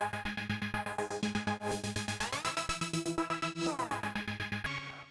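A weird synth lead plays in a beat, with bright, buzzy stepped notes over a steady pulsing rhythm of fast, repeating hits, loud and continuous for about five seconds.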